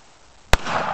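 A .38 revolver fires at coconuts outdoors: a single sharp, loud bang cracks out close by, followed by a rushing, noisy tail of echo and ambient noise.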